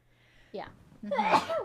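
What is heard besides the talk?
sneeze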